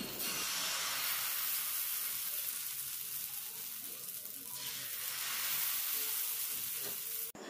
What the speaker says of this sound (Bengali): এবার গরম তাওয়ার মধ্যে প্রথমে খুব ভালো করে একটু অয়েল ব্রাশ করে নিচ্ছি।